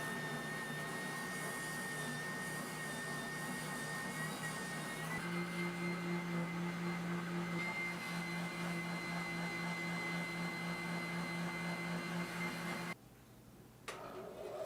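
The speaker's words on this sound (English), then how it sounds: "I'm going to go to spindle sander and begin refining the shape of the body." A spindle sander runs with a steady, loud whine and hum as a guitar body for an eight-string Crucible build is shaped against it, its tone shifting under load before the motor cuts off near the end.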